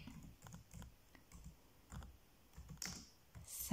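Quiet, close clicking of a computer keyboard as a story is typed, irregular bursts of keystrokes with short pauses and no talk.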